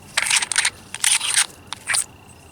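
A survival hatchet multi-tool has the bottom part of its handle unscrewed, giving several short bursts of gritty, crunchy metal-thread scraping and clicking, close up in an otherwise quiet space.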